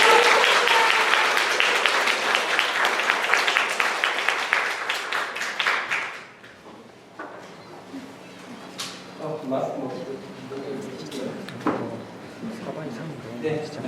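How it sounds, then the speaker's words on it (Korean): Audience applause for a guest speaker at a Korean-language speaking contest for foreign students, loud and dense at first, then fading out after about six seconds into quieter room noise and scattered sounds. "박수로 모시겠습니다"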